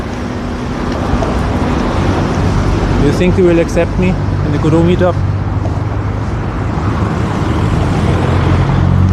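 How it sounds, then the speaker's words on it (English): Steady low rumble of road traffic in Vienna with cars passing nearby, while a person speaks over it partway through. "It is mostly fine, or there's a lot of cars in there"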